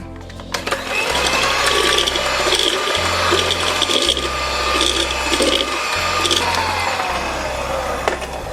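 An electric beater whips maida flour and 40 ml of water into a batter for hot cross buns. It makes a loud, steady motor whir with rhythmic low pulses roughly every second, and no one talks.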